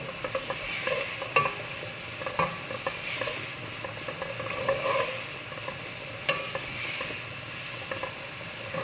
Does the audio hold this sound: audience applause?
no